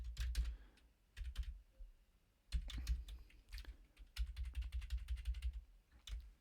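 Fingers tap steadily on a computer keyboard in uneven bursts of close, soft key clicks with short pauses between runs while code is written.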